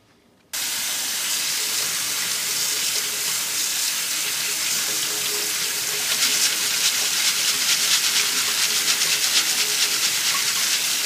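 Tap water runs steadily into a sink while split peas are rinsed, a loud, close and continuous hiss that starts abruptly and goes on without a break.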